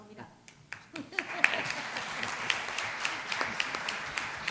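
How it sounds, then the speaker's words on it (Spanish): An audience at a book presentation applauds the speaker, scattered claps building into steady clapping over a few seconds while voices carry on beneath. "Te acabamos de aplaudir."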